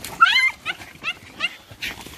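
Terriers out ratting let off a run of sharp, high yapping barks in quick bursts, close to the microphone, with faint rustling between them.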